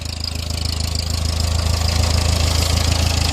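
A worn-out 70-year-old tractor engine idling with no oil pressure, a steady close, loud low throb with a rhythmic knocking pulse that holds even throughout, with no voices.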